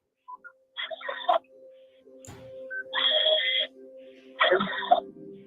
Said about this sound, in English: You can hear the victim at the self-checkout counter and even the beeps of her scanning in these gift cards, the beep, beep.